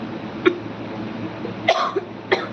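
Three separate coughs ring out, sharp and close, with gaps of quiet between them and a low background hum.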